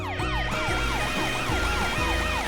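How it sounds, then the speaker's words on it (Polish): Cartoonish emergency vehicle siren wails, several overlapping up-and-down tones cycling rapidly and loudly over a low engine rumble. "włączcie swoje syreny, żeby ostrzec innych mieszkańców przed tą operacją"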